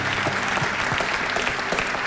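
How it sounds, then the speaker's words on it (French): A church congregation applauds Jesus during a healing service, with a brief burst of dense clapping and faint vocal sounds mixed in underneath. "on applaudit Jésus"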